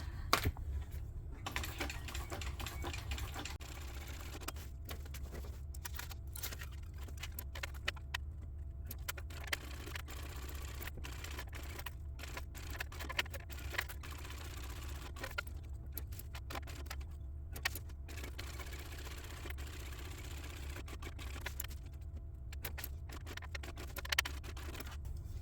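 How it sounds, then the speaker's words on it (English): A sewing machine stitching a fabric notebook cover, adding a few extra back stitches, heard as a continuous close mechanical rattle broken by brief pauses, with a low motor hum underneath throughout. "So I put a couple of extra back stitches here just so that it would be strong."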